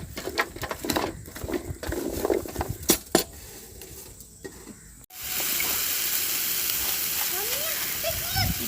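Vegetables for a vegetable biryani sautéing in a pan, with clinks and scrapes of a utensil at first, then a sudden steady loud sizzle and bubbling frying after about five seconds.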